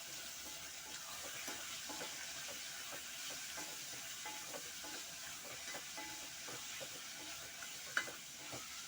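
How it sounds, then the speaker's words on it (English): Liver is stirred with salt in a cooking pot, with soft scraping and light clinking taps repeating steadily over a constant sizzling hiss. "add salt. 1 teaspoon is enough. We stir a bit."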